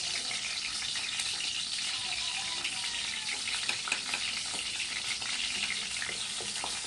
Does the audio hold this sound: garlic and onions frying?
yes